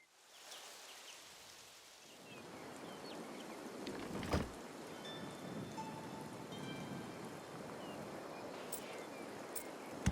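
Steady rain pours in the Dungeons 4 game, joined around midway by a sharp thunder crack that rumbles off beneath the continuing downpour.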